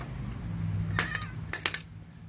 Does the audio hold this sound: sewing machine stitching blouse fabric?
no